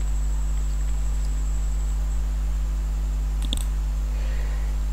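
A computer mouse gives one or two sharp, close clicks while signing up for a website through Gmail, set against a constant electrical hum and faint background noise, with nobody speaking.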